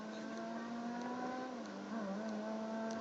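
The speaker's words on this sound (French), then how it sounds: "Je sais pas si vous entendrez le bruit de la voiture." Game car engine in GTA Online, a steady droning hum with a shifting pitch as it revs and changes gear, heard alone and continuous throughout.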